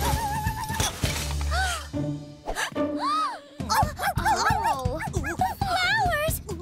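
A cartoon dog barks and whimpers in a mix of yips and rising whines, mostly alone, with a short stretch of voices talking in the middle.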